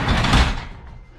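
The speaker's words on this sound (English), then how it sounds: "All right, let's get the door shut." Car door shut once in a garage or driveway setting, a single close, loud thud that fades quickly.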